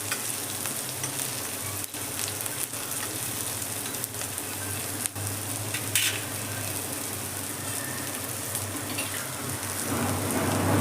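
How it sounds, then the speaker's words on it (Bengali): Vegetables for Maggi fry in oil in a wok with a steady, dense sizzle that crackles continuously for several seconds, close and fairly loud, with a few sharp clicks and no speech. "দেখুন, আমার সবজিগুলো খুব ভালো করে ভাজা হয়ে গেছে।"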